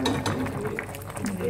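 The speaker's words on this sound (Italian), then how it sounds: "Si mescola." Tripe and canned peeled tomatoes being stirred in a cooking pot, with soft scraping and clinking of a utensil against the pot in a steady close-up rhythm, under faint background noise.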